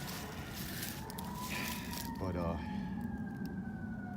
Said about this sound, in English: you can clearly hear that fire engine